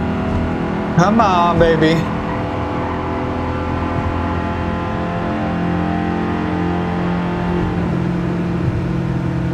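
Car engine revving in the racing game Gran Turismo 7, a steady sustained engine drone with harmonic whine throughout, briefly rising under a short spoken remark near the start.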